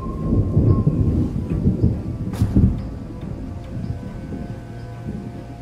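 Low rolling thunder before rain rumbles steadily, with a sharp crack near the middle, then settles into a distant, continuous grumble.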